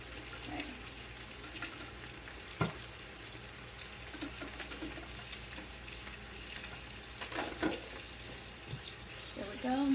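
Water runs from a tap into a cooking pot to rinse out leftover sauce in a home kitchen, a steady hiss and splash that continues for several seconds with faint clatter.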